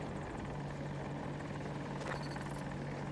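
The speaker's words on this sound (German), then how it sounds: "Wo ist der Attack-Helikopter?" An AH-64 Apache attack helicopter in a combat video game on the Manifest map, heard as a steady rotor and engine drone throughout, fairly faint and continuous with no talk over it.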